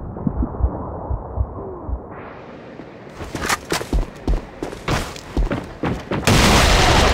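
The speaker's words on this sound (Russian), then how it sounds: "Бросаю гранату!" Explosions and gunfire in the online shooter game A.V.A., a thudding grenade blast followed by a rapid series of loud booms and shots, ending in a sustained roar.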